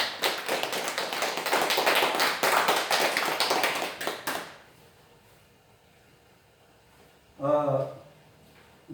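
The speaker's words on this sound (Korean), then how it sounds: "우리 하나님께 영광의 박수입니다." A church congregation claps loudly for several seconds, a dense and steady wash of applause that stops abruptly. It is followed by near silence and then a brief spoken voice.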